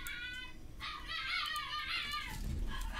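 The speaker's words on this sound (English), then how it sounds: "And all of a sudden the dog's barking" A pet dog barks and yips indoors, a few high excited bursts in the background over a faint electronic hum, ending with a low muffled thump.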